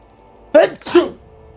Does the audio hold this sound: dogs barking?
no